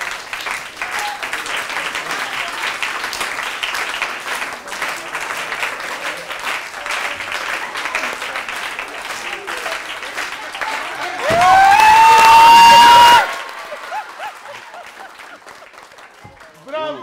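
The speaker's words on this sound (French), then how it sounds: "on va applaudir très très fort." Sustained audience applause at a live show, dense clapping throughout, swelling louder midway with a rising tone over it, then easing off; voices are heard under the crowd.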